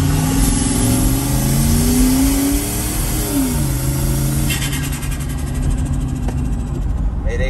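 Turbocharged Dodge Dakota pickup with a 5.2 Magnum V8 and bed-mounted turbo, rolling from about 5 mph locked in first gear; the engine revs and pulls steadily, loud and close, with a rising drone throughout and no talking.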